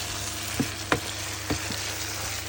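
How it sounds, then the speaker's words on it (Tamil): Boiled mutton sautéed in a pan with fried onions and spices for a masala fry, giving a low steady sizzle with a few soft stirring scrapes and taps, close and alone without talk. "வேக வச்ச மட்டன் ஆட் பண்ணிவிட்டு இதை அப்படியே நல்லா வதக்கிக்கலாம்"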